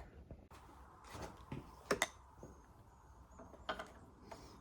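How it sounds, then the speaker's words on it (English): A wrench works close by as a part is bolted down on a Kawasaki ZX6R motorcycle, giving faint mechanical clicks and a few sharper ratcheting ticks over quiet shop background. "Now we just have to bolt her down here"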